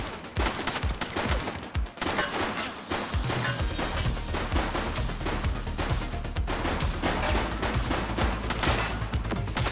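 Rapid bursts of gunfire crackle through a police action game set in a city precinct, dense overlapping shots and automatic fire running continuously at close range with a low rumbling backdrop.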